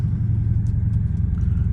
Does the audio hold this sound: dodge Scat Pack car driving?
yes